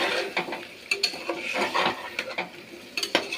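Spice paste cooked down in oil in a pan until its water has dried and the oil separates, with irregular close spatula scrapes and clinks over a faint sizzle.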